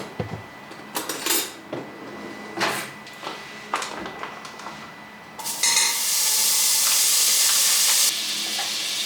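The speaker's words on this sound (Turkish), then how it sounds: "Şimdi biraz tereyağı koyacağım." Butter dropped into a soup pot on a home stove, with several clinks and knocks of a pot and utensil, followed by a loud, bright, steady sizzle of the melting butter.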